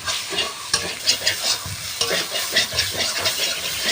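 Onion and spices with turmeric fry in oil in a pan while being stirred, a bright crackling sizzle broken by rhythmic scraping strokes of a spoon, close and continuous with no talking.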